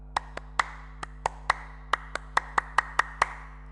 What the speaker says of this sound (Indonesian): Ayo kita bersama-sama tepuk pramuka.